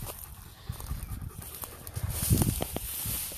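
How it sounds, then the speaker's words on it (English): A farm dog pants close by, quick rhythmic huffs with light shuffling and scuffing around it, steady and near. "best dog there ever was"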